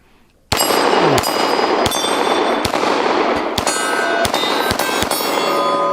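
Handgun shots fired outdoors at a steel plate target, a series of sharp, loud cracks each followed by a ringing metallic clang, spaced about half a second to a second apart, with no talking.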